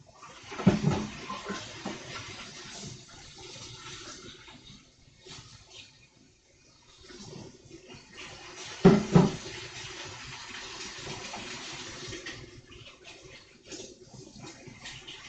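Dye bottles and lids are rinsed under a running tap, a continuous splashing water stream with louder gushes near the start and middle, fairly close and without speech.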